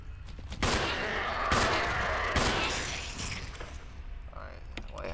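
Shotgun blasts ring out in a Resident Evil game, with several loud booming reports and crashing impacts in quick succession and lingering noise in between.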